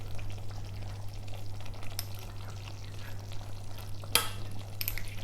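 Tamarind puree going into a frying tomato and spice mix for Nellore fish curry, a continuous soft sizzle with a low steady hum beneath and a sharp utensil clink near the end.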